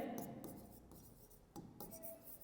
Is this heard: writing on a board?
yes